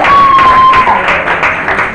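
An audience applauds at a drag show in a bar, a steady wash of clapping from a crowd with a brief whistle-like tone early on, loud and close.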